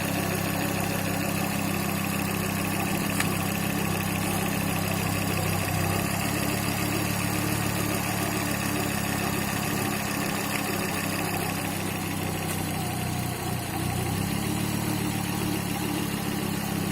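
A car engine idles steadily while warming up during coolant bleeding, a continuous low hum and faint vibration heard fairly quietly without any speech.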